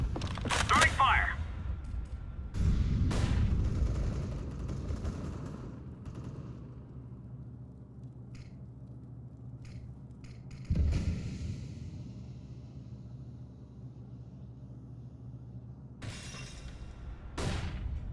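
An incendiary grenade lands in Counter-Strike: Global Offensive with sharp shattering cracks and loud bursts, followed by a low sustained burning rumble and further sudden impacts, with occasional voices.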